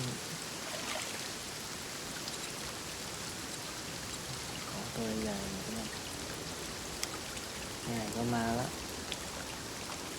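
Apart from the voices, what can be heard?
rain falling in a PC multiplayer fishing video game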